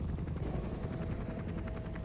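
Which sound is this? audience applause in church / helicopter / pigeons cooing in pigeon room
helicopter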